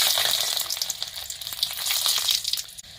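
Chopped garlic fries in hot oil in a pan over a wood-fired village stove, giving a steady, close, bright sizzle that crackles and spatters without pause.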